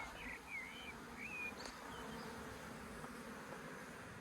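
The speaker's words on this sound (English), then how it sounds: "all the bees have been transferred into the Anel plastic insulated hive" A low, steady droning hum of many honeybees buzzing together in a plastic insulated hive, constant and close, with a few faint bird chirps above it.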